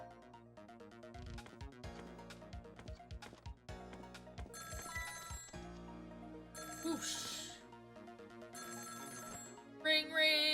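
Telephone ringing in the video game Ghost Trick: Phantom Detective, repeated electronic bell trills over game music, with a voice speaking briefly.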